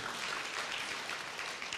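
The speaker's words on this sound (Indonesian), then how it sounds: "Kasih tepuk tangan yang meriah buat Tuhan." Church congregation applauding in praise during a sermon, a steady wash of dense clapping that is fairly faint and distant, continuous throughout with no voices over it.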